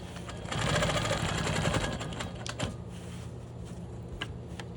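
A Quilt Maker Pro 20 longarm quilting machine stitches steadily around a small square of fabric during ruler work, a close, continuous rapid mechanical chatter with slight shifts in pace and no talking.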